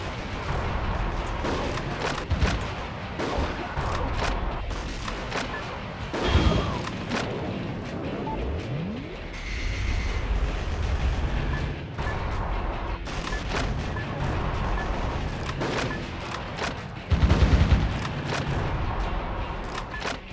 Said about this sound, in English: Bazooka.